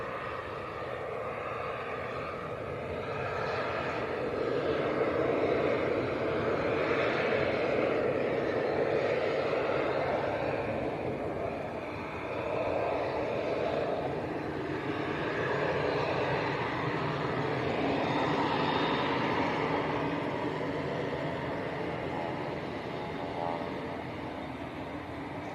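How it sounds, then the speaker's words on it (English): Pilatus PC-12 turboprop taxiing along taxiway Lima at Leeds Bradford Airport, a broad, steady engine roar swelling and easing slightly across the whole stretch, fairly close. "So that is taxiway Lima that this PC-12's coming up."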